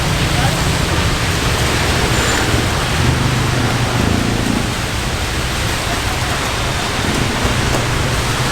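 Heavy typhoon rain in the Philippines pours down as a loud, steady broadband roar that holds unbroken for the whole stretch, with no clear voices above it.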